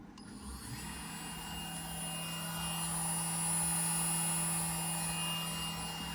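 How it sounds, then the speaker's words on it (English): A 1.5kW CNC spindle runs steadily at 10,000 RPM with a constant high-pitched whine and smooth motor hum. The sound is fairly quiet, unbroken and heard alone. "I now have the spindle working."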